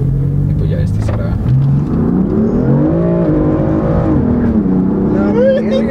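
A BMW M4 accelerates hard, its engine note climbing through the revs in a loud, sustained, close roar with shifting pitch, while people talk over it.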